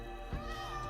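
A pet cat gives one short meow, faint and close, over a steady background hum.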